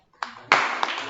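An audience at a World Disability Day cultural programme breaks into a short burst of clapping that builds quickly, with a brief voice at the start.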